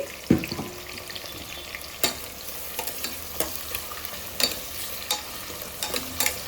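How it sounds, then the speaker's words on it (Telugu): Ingredients for mutton pulao fry in a pan with a soft, steady sizzle, broken by sharp scrapes and knocks of stirring every second or so, close up and without speech. "ఇవైతే వేగుతున్నాయండి"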